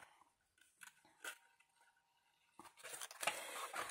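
Scissors snipping the pointed tips off small paper glue tabs on a handmade Santa's car model, a few quiet cuts followed by a louder, denser burst of crisp snips and paper rustle close by.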